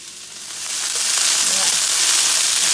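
Food being stir-fried for a tuna steak dish sizzles loudly in a hot pan, a dense bright hiss that swells and holds steady, with faint stirring scrapes underneath and no talk.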